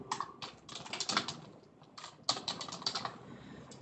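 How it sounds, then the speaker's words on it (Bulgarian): Typing on a computer keyboard to enter Google Translate into a browser: quick irregular bursts of crisp key clicks with brief pauses, close and clear with no talking. "Това, което е необходимо да изпишем в браузърът Google е Translate."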